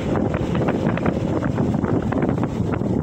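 Strong wind buffets the microphone in a steady, loud roar, a dense rumbling rush that never lets up.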